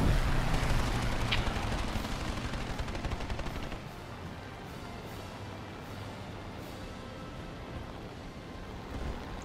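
Rapid cannon bursts from an aircraft in the War Thunder video game, loud and dense for the first few seconds, then fading to a quieter rumble of engine and distant fire.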